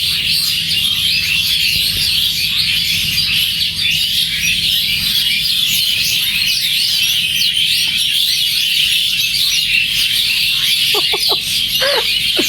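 Birds hidden in leafy tree foliage give a few short chirps near the end. They sit over a constant, loud outdoor hiss and wash of background noise.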